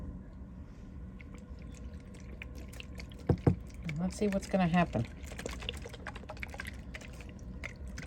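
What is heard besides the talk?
pouring molasses water onto worm bedding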